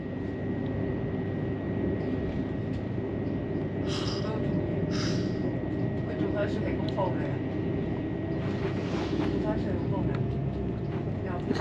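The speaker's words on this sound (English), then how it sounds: "We're slowly leaving King's Cross on the Great Northern 387." Great Northern Class 387 electric train slowly pulling out of King's Cross, heard from on board as a dense continuous rumble and hum with a steady motor whine, while people speak softly over it.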